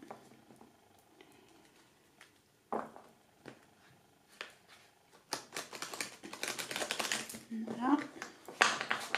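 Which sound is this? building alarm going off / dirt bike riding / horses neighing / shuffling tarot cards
shuffling tarot cards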